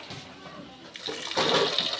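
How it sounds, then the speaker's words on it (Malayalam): Water poured over washed rice for Hyderabadi chicken dum biryani, a rushing splash that grows louder in the second half, close and alone with no voices. "അരി നമുക്ക് കഴുകിയിട്ട് വെള്ളം ഒഴിച്ചിട്ട് ഒന്ന് കുതിരാൻ വേണ്ടി വെക്കേണ്ടത്"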